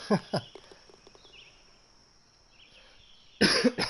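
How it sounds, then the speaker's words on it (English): Two harsh coughs at the start from a player of The Golf Club 2019 on PS4, then a quiet stretch with faint insect chirps, followed by another burst of loud coughing near the end. "Sorry again for the coughing"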